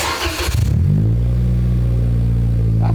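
A 2020 Toyota Corolla with the exhaust removed and an open downpipe starts up and revs. After a short rough burst, a loud, deep, raw engine drone holds steady close by, alone.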